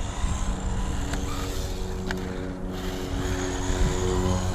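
RLAARLO 1:14 scale 4WD RC buggy driving at a skatepark, a continuous high electric motor whine over wheel roar, steady and fairly close, with a couple of brief knocks.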